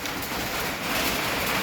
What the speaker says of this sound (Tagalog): Tagal-tagal natapos ang ulan na to tay.